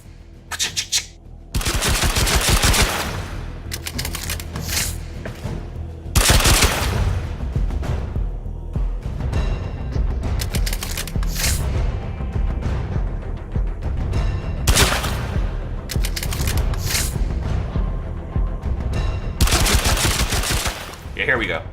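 Warframe weapon firing glue balls and reloading, loud repeated bursts of rapid shots with clacking mechanical reload sounds between volleys, close and dense throughout.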